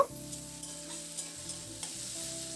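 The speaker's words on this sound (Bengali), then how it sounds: "এবার হলুদটা দিয়ে আলুর সঙ্গে নাড়াচাড়া করে আলুটাকে মিনিট তিন চার সময় ধরে খুব ভালো করে আলুটাকে একটু ভেজে নেব" Potatoes with turmeric frying in a pan, a steady close sizzle with a few soft stirring scrapes and a low background hum.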